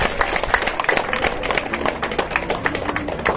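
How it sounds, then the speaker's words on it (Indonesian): Dense, steady applause from an audience at an outdoor community gathering in Tuktuk, Samosir, where rice and corn seed were handed out; many overlapping claps sustain at an even level throughout. "Boleh tepuk tangan buat kami."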